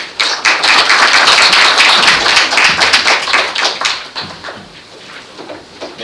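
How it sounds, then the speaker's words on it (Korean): Dense, loud audience applause at a seminar talk on a HILS build process, steady for about four seconds and then thinning into scattered claps before fading. "박수를 많이 해주시기 바랍니다"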